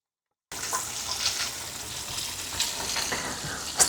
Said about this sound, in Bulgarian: Оставям ги да се пържат на сравнително силен тиган, за да станат хрупкави.